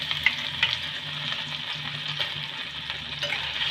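Chopped ginger and cumin seeds fry steadily in hot oil, a close, continuous sizzle with a few soft stirring clinks and no voices.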